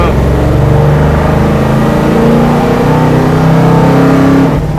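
A HEMI-powered 1968 Dodge Charger built as a Bonneville land speed car accelerates hard in first gear, its engine a loud, deep, continuous roar that rises steadily in pitch, heard from close range.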